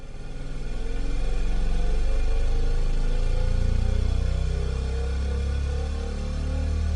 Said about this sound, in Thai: เสียงเครื่องยนต์ที่หนาแน่นและรุนแรง ได้ดังขึ้นมาจากที่ไกลๆในม่านหมอกแห่งนี้